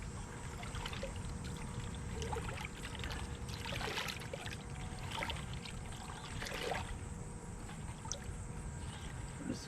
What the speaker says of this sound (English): I'm just gonna mix all this up